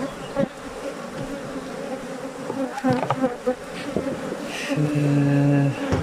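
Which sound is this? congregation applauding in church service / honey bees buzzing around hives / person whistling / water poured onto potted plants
honey bees buzzing around hives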